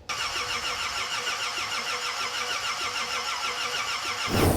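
A classic Ford F100 hot rod engine cranking over steadily on the starter while being checked for spark, a loud rhythmic whirring chug that continues throughout and rises in a brief surge at the end.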